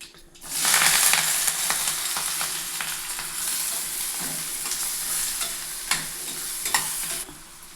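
Mustard seeds, cumin, green chillies and curry leaves frying in hot oil, a loud steady sizzle with spattering crackles and a few sharp pops, close and alone.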